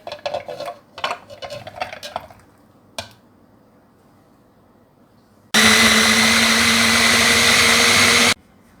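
A blender purees mango, running loud and steady for about three seconds after a few clinks of kitchen items, then stopping abruptly.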